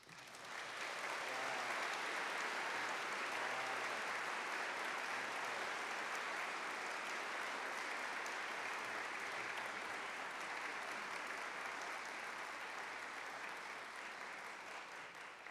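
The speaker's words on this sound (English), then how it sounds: "Please join me in one more round of applause for these outstanding staff." An audience at a Cal Poly fall conference general session applauds staff award recipients, a sustained, dense clapping that holds steady for a long stretch before easing slightly at the end.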